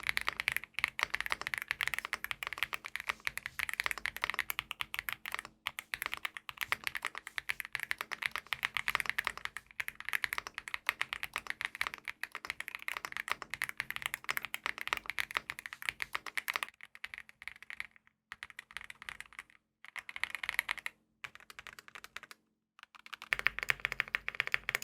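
Typing on a $70 budget mechanical keyboard with a light-coloured glow, a steady stream of close, crisp keystrokes that goes on for most of the stretch, with a few short pauses near the end.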